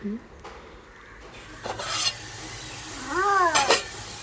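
Scraping stir of fish biryani in a pot, a few short bursts of spoon against metal, with a cat meowing nearby toward the end over a quiet room.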